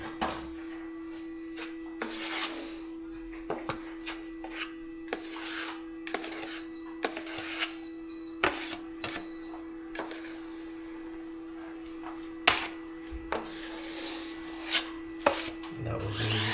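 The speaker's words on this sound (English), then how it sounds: "That will sand it right." A drywall plaster patch is sanded by hand, with soft scratchy rubbing strokes in irregular bursts and occasional light knocks, close and fairly quiet, with no talking.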